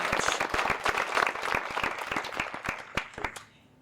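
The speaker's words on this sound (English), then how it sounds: "If we could give them all a round of applause" A crowd applauds with dense, steady clapping that gradually thins and fades out near the end.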